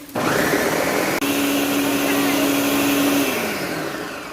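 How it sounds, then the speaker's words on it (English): A blender whirs steadily for several seconds, blending strawberry lemon cheesecake filling, with a loud continuous motor drone and a steady whine that eases off at the end. "We're gonna blend until it's very well blended."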